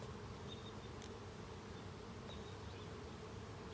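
Honeybees buzzing around an open hive during a brood inspection, a soft continuous hum with occasional closer passing buzzes, faint and steady, no talking.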